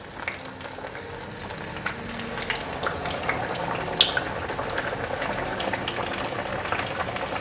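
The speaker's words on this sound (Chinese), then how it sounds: "油热了，把素鱼放下来炸。" Vegetarian fish frying in hot oil, giving a steady, close crackling sizzle that runs the whole time with small pops and no voices.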